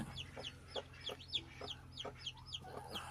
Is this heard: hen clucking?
yes